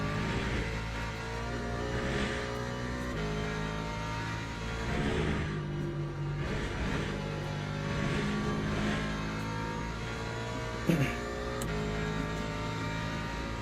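LMP3 prototype race car engine in Le Mans Ultimate at Le Mans, a steady loud droning roar with rising and falling revs through gear changes, a sharp brief thump near the end, no voices.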